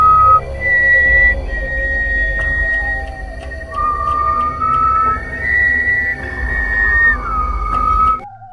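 Long, sustained whistles sound in a film scene: villagers whistle back and forth in answer to one another, layered over a low, steady rumble.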